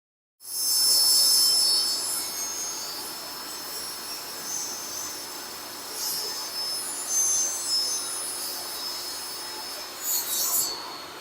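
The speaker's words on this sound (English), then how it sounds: "Okay, we're going to cut our side with the table saw." Table saw ripping a side piece for a restored 1948 Admiral 7-inch Bakelite TV cabinet, a steady loud whining roar that holds for about ten seconds with slight surges, alone without talk.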